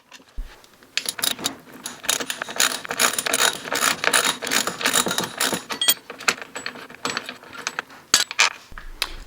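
Busy metallic ratcheting and clinking as bolts come off Polaris rail scratchers with a 10mm Allen key and T40 bit, a continuous close rattle of tool and hardware for several seconds, loud with no voices.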